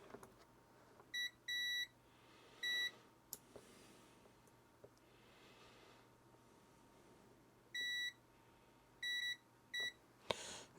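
A multimeter gives short, high electronic beeps while continuity-testing the wires of a power supply being built for a Commodore Plus/4. The beeps are quiet and close, in several brief pairs and groups separated by near-silent pauses.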